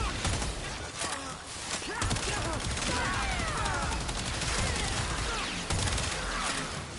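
Fully automatic gunfire in Warframe, a dense run of rapid shots and crackling impacts that keeps going steadily and loudly, with a voice talking over the shooting at times.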